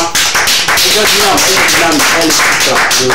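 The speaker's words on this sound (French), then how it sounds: "Je crois que ce titre-là, sincèrement, il mérite des applaudissements" Applause in a studio broadcast, brisk clapping from an audience that carries loudly over a voice for a few seconds.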